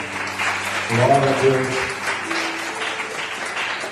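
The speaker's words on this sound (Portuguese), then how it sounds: "Você pode aplaudir o Senhor." A church congregation at a Tuesday worship service claps steadily, a broad wash of applause underneath a voice speaking over it.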